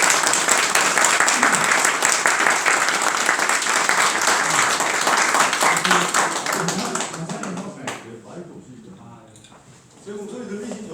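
Audience applause welcomes a member of the National Assembly onto the stage at a forum lecture. It is dense, sustained clapping that thins out after about eight seconds, and a voice then begins speaking over the last of it.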